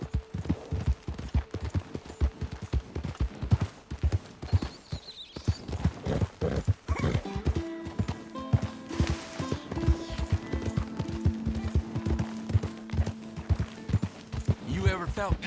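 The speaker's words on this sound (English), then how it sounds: "you're the one tied to the back of a horse" Horse hooves clip-clop at a gallop in Red Dead Redemption 2, a fast, loud and steady beat over rough ground, with voices speaking over it and gunfire-like bangs mixed in.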